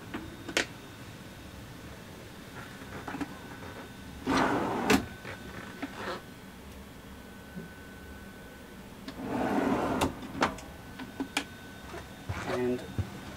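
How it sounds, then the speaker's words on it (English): Soft-closing kitchen drawers in a family expedition campervan being opened and shut, with two muffled sliding rumbles a few seconds apart, each ending in a gentle thud, plus scattered small clicks and knocks in a quiet interior. "These are soft closing drawers."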